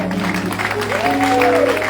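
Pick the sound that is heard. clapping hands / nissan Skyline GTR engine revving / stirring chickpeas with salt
clapping hands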